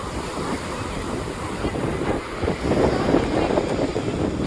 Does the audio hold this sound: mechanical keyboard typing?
no